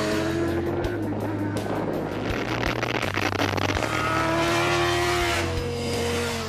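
A BMW racing motorcycle runs on the Pannonia Ring circuit, its engine droning loud and steady with shifting pitch as the bike is ridden at speed.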